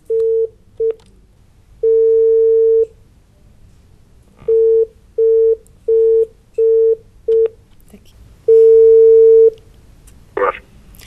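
A telephone busy signal on a call to a prize department that goes unanswered: loud, clean repeated tone bursts of uneven length with gaps between them, heard alone with no talk.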